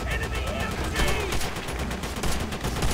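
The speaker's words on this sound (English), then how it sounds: "Enemy MG!" Enemy machine guns rattle in rapid, continuous bursts during a Call of Duty: World at War battle, loud and dense throughout, with shouting voices mixed in.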